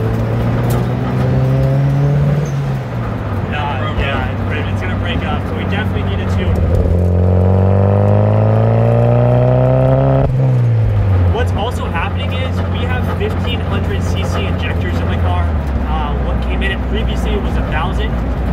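A Mitsubishi Evo from the Tokyo Drift film, run untuned and dumping fuel, drives with its engine revving loudly and close: rising and falling pitch sweeps as it accelerates and shifts, with a sustained drone throughout.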